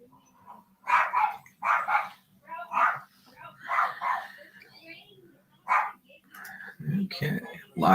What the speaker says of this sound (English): lots of dog barking